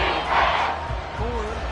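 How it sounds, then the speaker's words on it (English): A football stadium crowd roars in a dense, loud swell that rises and then eases, with a commentator's voice sounding over it. "this crowd doing their best to make a lot of racket"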